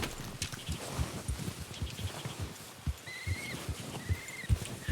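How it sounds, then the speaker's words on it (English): A horse in Red Dead Redemption 2 walking at a steady pace, its hooves thudding in an even rhythm, close by and moderately loud, with faint outdoor ambience and brief birdlike chirps. "I'll get back on the horse"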